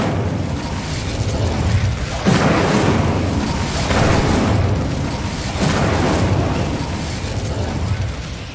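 Repeated casts of the Incendio fire spell in Hogwarts Legacy, several rumbling, whooshing fiery bursts in a slow rhythm over a loud, continuous game soundscape.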